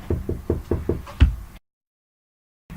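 Six sharp knocks on a door in quick succession, the last one loudest, followed by silence and then faint background noise.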